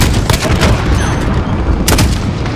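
Shotgun blasts and gunfire in the Modern Warfare video game, two heavy booming shots about a second and a half apart over a dense, loud layer of continuous battle noise.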